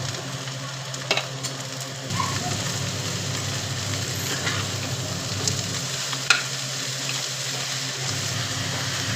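Finely chopped spring onion greens fry in a pan, giving a steady close sizzle and crackle, with occasional stirring scrapes and small pops, and no speech over it.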